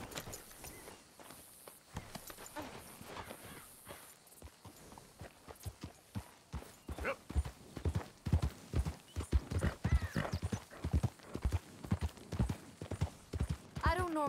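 In Red Dead Redemption 2, a horse's hooves clip-clop in a steady walking rhythm that grows louder and more distinct, with occasional snorts, while people talk over it.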